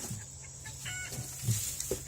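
Baby chicks clucking softly in a box with straw, a few short, faint peeps and clucks over a quiet steady background hum.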